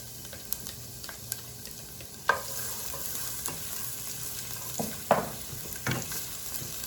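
A whole head of roughly chopped garlic sizzling in olive oil in a pan, a soft, steady hiss broken by a few sharper crackles and stirring scrapes, close and fairly quiet.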